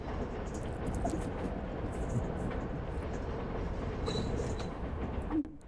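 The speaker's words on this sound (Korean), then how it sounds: "평범하게 지하철에 오른 리처" A subway train rides with a steady, continuous rolling rumble heard from inside the car. It stays moderately loud throughout, with a brief sharper screech near the end.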